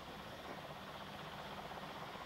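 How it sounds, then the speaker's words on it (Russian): A military helicopter idles being refuelled at the Chernobyl nuclear plant in 1986, its rotors and engine giving a continuous dense roar that stays steady and fairly distant throughout, with no voices. "эти вертолеты, вот 68-й борт заправляет как раз сейчас"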